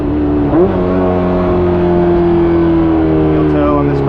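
A Honda S2000 with a built K24 engine holds a steady, loud engine note from inside the cabin, with one quick blip near the start and a rising pitch as it pulls.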